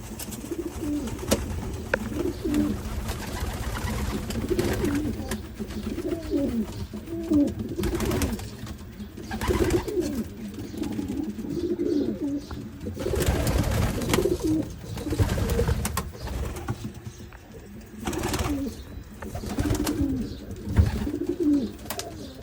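Pigeons in a loft coo in repeated soft, throaty phrases, several birds overlapping at close range against a steady low background murmur.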